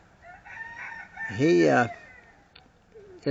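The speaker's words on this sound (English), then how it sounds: "But the rest of these roosters, right there's a nice one." A Rhode Island Red Isa mix rooster crows once, a strained rising cock-a-doodle-doo at moderate distance, with quiet farmyard background before and a few faint clucks after.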